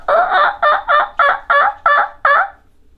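A human voice imitates a wild turkey call, producing seven rhythmic gobbling yelps in quick even succession, loud and close, in a quiet outdoor cabin setting with no other talk.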